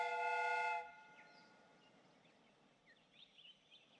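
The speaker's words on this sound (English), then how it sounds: "The steam whistle is ready to be used." Steam whistle on a train replica in the Sherlock Holmes Crimes and Punishments video game, one loud, steady, harmonic blast lasting under a second, then cutting off into quiet ambient noise.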